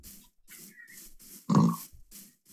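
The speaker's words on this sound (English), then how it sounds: "That pig just came out of the ground." A pig in the Minecraft video game oinks in a series of short, evenly spaced grunts, with one louder, longer squeal near the middle, heard clearly without talk.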